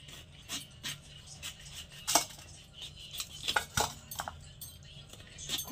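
A knife chops raw mango into pieces on a board, giving a series of irregular, close, sharp taps and clicks, some louder than others, in a quiet kitchen.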